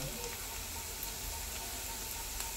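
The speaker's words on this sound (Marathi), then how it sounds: "व्यवस्थित आपण तळून घेऊया।" Chopped onion fries in hot oil for misal, giving a soft, steady crackling sizzle that stays close and even throughout, with no one talking.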